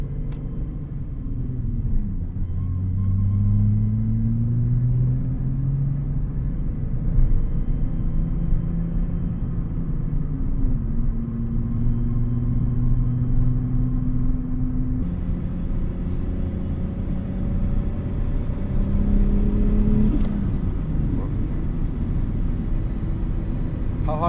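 A 1998 Volkswagen Jetta GLX VR6 Turbo drives along. A low engine drone rises and falls through several gear changes, with steady road rumble heard from inside the cabin.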